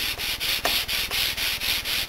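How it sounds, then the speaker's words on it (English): Rhythmic back-and-forth scratching of 320 grit sandpaper rubbed by hand on the edges of an electric guitar, close up, in even strokes with no voices. "got my 320 grit paper. I'll do a finish sanding here"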